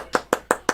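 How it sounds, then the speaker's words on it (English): A golf clap: four soft, evenly spaced hand claps in under a second, close and isolated, no talking. "And golf clap."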